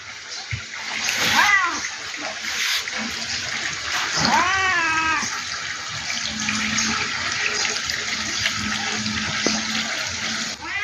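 A stray cat meows twice, fairly close, over running water and splashing, with a faint voice speaking in the background.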